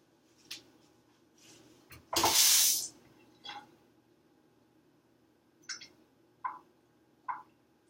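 A lab container of cold water is shaken after the buttermilk has been poured out, giving one loud sloshing burst midway, then several short quiet knocks and splashes against near silence.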